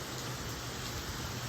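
Rain falls in Florida after swimming, a steady, close, even hiss of rainfall filling the brief moment with no voices.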